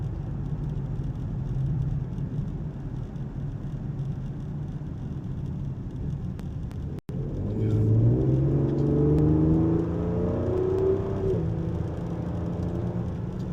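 A 2022 Ford Explorer ST runs at a steady whirring cruise, then after a brief click and dropout its engine note rises and climbs in pitch as it downshifts, staying close and fairly loud inside the cabin.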